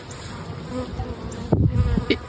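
Bees buzzing in a steady insect drone, close and moderately loud, with a louder burst near the end as one passes nearer; no talking.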